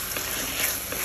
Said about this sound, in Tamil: காலிஃப்ளவர் வந்து நம்ம பொரிச்சு வச்சுருக்கோம் இல்லைங்களா, அதை வந்து இப்போ நம்ம ஆட் பண்ணோம்